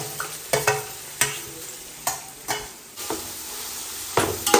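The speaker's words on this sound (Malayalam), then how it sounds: "എല്ലാം കൂടി നന്നായിട്ട് ഇവിടെ മിക്സ് ചെയ്യുന്നുണ്ട്." Cabbage, beans, carrot and capsicum stir-fried together in a hot pan for noodles, a continuous close sizzle broken by repeated sharp scraping strokes of a spatula at an uneven rhythm.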